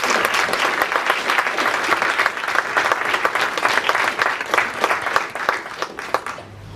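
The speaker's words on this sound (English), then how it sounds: "So please give her a round of applause." Audience applause for a guest speaker at an LGBT History Month event on intersectionality of race, gender and class, a dense, steady wash of many clapping hands filling the room for several seconds before tapering off at the end.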